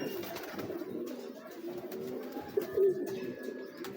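Low, soft Ferozpuri pigeon cooing amid outdoor background noise, with a slightly louder coo near the end.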